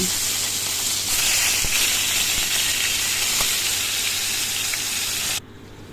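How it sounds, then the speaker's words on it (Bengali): Koi fish rubbed with salt and turmeric fry in hot oil for a Bengali tel koi, giving a steady, fairly loud sizzle with no talk that cuts off sharply near the end. "প্রথমে তেলের মধ্যে নুন হলুদ মাখিয়ে রাখা কই মাছগুলো একে একে ভেজে নেব।"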